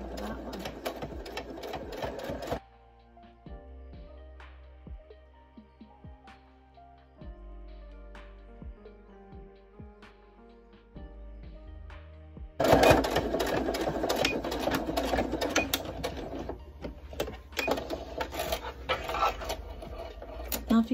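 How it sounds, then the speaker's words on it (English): A home sewing machine runs on its automatic sewing setting, whirring in steady bursts with rhythmic needle clatter, starting and stopping between quieter pauses as someone talks. "my machine has a setting on here to where I can automatically sew"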